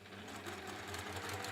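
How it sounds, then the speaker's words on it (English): A sewing machine runs continuously, stitching quilt pieces together with a quarter-inch seam for a zigzag quilt. The motor hum and rapid needle rhythm stay steady and close, with no voices. "So we're going to sew these 2 together into pairs"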